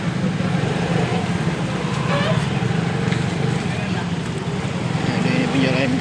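A motorcycle ridden on a shopping run gives off a constant, close engine hum and road noise, with wind rushing past and voices faintly underneath.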